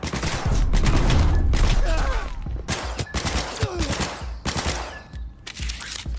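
Gunfire in the video game Cyberpunk 2077: dense, rapid bursts and volleys of shots follow each other with brief pauses, loud and close, ending in scattered single shots.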